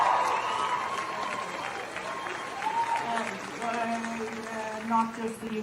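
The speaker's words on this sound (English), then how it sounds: "Listen to them cheer." A crowd cheers and applauds, a steady wash of clapping with voices rising over it, while a person's voice carries through in the middle of the clip.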